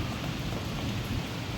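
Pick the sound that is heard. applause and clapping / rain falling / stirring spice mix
rain falling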